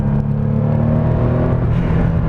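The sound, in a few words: Porsche 930 Turbo engine with turbo boost noise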